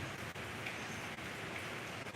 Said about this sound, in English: It's kind of dreary and rainy